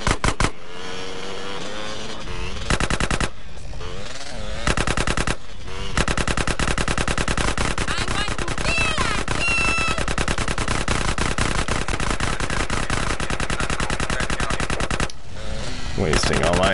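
Rapid automatic gunfire from GTA San Andreas fills nearly the whole stretch, loud dense bursts with brief pauses, while voices talk over it.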